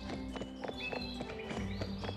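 A horse's hooves clip-clop steadily at a walking pace in the Barbie Wild Horse Rescue video game, soft rhythmic taps over quiet game music with faint background tones.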